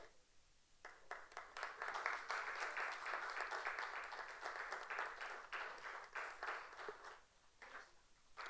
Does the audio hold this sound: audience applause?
yes